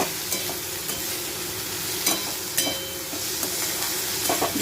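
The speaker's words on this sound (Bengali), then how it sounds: "এখন 5 মিনিট মতো ফ্রাই করি" Onion, chili, beans and capsicum sizzle steadily in a frying pan with salt, with a spoon scraping and stirring through them in a few sharp clicks. The sizzle is close and continuous, and nobody speaks.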